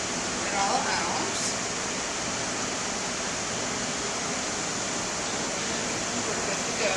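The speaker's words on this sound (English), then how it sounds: "you want to strain off those vegetables, and you're just going to put it in a colander, like so." Cooked vegetables and sauce poured into a colander to strain espagnole sauce, a steady loud wash of liquid splashing through for the whole stretch with no pauses.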